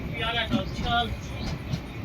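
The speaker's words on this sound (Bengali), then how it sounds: "বন্ধুরা দেখতে দেখতে আমাদের ট্রেন এসে পৌঁছালো জঙ্গিপুর রেলওয়ে স্টেশন।" Sairang Express train pulling into Jangipur railway station, a steady broad rumble and rattle of carriages with people talking over it throughout.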